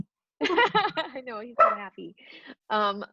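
A dog barks in a string of short, close yaps and yips, mixed in with a person's speech, during an indoor conversation.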